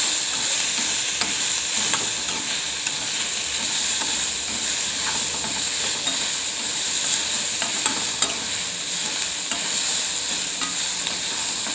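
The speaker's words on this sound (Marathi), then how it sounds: "गवारी तुरट असते, त्यामुळे थोडी हलकीशी भाजून घ्यायची." Cluster beans (guar) dry-roasting in a pan while being stirred, giving a steady, close hiss and soft sizzle with occasional light scrapes, continuous throughout with no talking.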